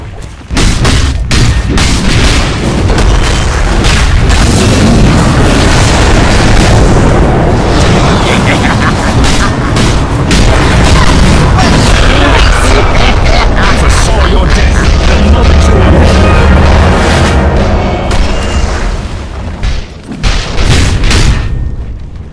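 Buildings exploding under attack in a Dota 2 match, with repeated booming blasts and crackling impacts forming a dense, loud battle din throughout, while a game announcer voice speaks over it.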